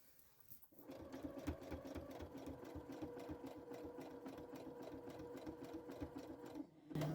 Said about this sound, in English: I'm sewing really close to the edge of the binding